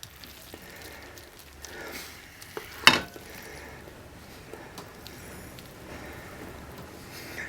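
Egg frying in a pan for mee goreng, a soft, steady sizzle with a gentle crackle throughout and one brief louder clatter near the middle.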